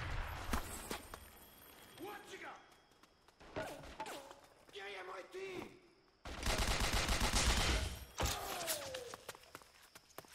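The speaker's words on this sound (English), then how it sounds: "Look at the grenade bouncing off the walls" Grenades blasting in the shooter game 50 Cent: Blood on the Sand, several dense bursts of game explosions and gunfire mixed with an excited voice talking over the action.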